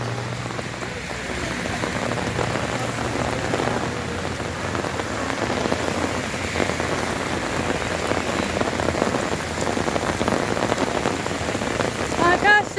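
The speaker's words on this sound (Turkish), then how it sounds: "görüyorsunuz şakır şakır yağmur yağıyor." Heavy rain pours steadily during flooding in Antakya, Hatay, a dense continuous patter on surfaces that stays loud and even throughout.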